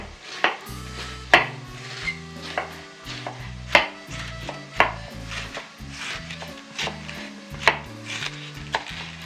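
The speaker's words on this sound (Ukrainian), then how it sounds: "Зараз нарізаємо капусту. Дрібненько." Knife finely chopping cabbage on a cutting board, a quick irregular series of sharp close taps with brief pauses, no voices.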